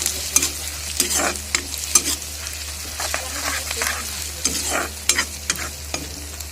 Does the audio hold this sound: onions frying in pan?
yes